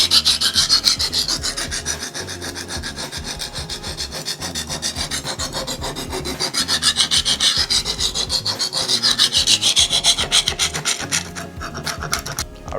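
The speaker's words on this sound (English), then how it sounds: "let's go ahead and start sharpening this knife for real" A dulled chef knife scrapes back and forth across a diamond sharpening stone in rapid, regular rasping strokes, close and continuous, gently rising and falling in loudness, with no talking.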